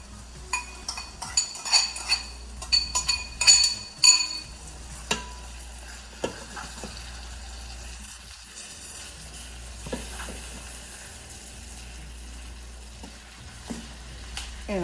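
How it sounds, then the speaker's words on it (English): Rice tipped into a small jambalaya pan and stirred, with scattered spoon clinks and scraping bursts over a low steady frying hiss, busiest in the first few seconds and thinning to quieter sizzling later. "And now I'm adding the rice."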